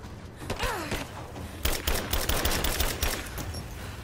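Bursts of gunfire and sharp blasts from grenade explosions during a Rise of the Tomb Raider firefight, loud and clustered, with several heavy impacts in quick succession.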